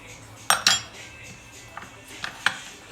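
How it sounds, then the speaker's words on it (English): A metal spoon working at an underripe avocado, giving a few sharp clinks and scrapes: two close taps early, then fainter scrapes and clicks spaced apart, with a quiet room behind. "I'm just going to take the spoon and dig the flesh out"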